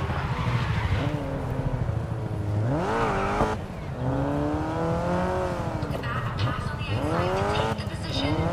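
A race car engine in the Grid Legends racing game whines and shifts pitch through repeated rising and falling revs, with tire squeal woven in; the sound is loud and continuous, and a voice may be talking over it.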